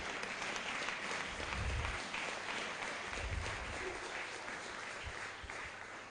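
Congregation clapping in a church service, a steady, dense wash of applause filling the room at moderate volume, with a few low thumps and no clear talk over it.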